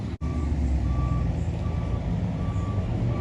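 Steady reversing beeps from a tow truck repeat at a slow, even pace over a loud rumbling engine and traffic noise, at a car meet crash scene.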